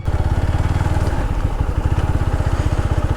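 A motorcycle engine idles close by with a steady, throbbing low putter at a lakeside stop in Sunamganj, continuous and even throughout.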